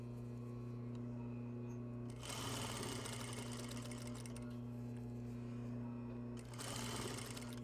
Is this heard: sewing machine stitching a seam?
yes